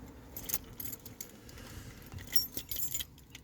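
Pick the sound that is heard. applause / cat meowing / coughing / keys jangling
keys jangling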